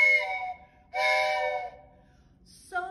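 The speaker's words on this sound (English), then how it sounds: "Train whistle." Toy train whistle from a percussion instrument set, blown in two bright, breathy tones about a second each with a short gap, then a brief third toot at the end.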